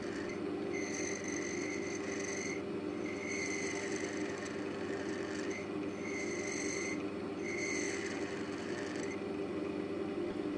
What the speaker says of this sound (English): a few passes of a scraping cut will thin this goblet all the way to the end